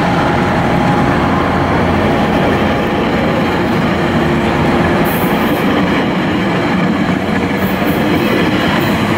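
An SFRTA commuter train departs toward Miami with a loud, constant roar of wheels and rail noise close by, and a few faint high squeals near the end.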